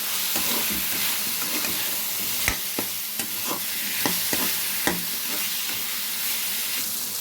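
Drumstick pieces fry with salted, turmeric-coated onions in a pan, giving a continuous close sizzle with several crisp stirring knocks and scrapes.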